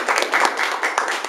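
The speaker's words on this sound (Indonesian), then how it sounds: "Beri tepuk tangan yang meriah dulu Bapak Ibu." A seminar audience in a lecture hall gives brief, fairly close applause, a short burst of many hands clapping.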